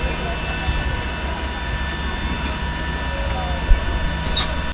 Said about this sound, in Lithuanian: Sėdžiu jau lėktuve.